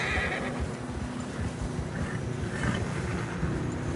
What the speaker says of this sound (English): Horses are struggling.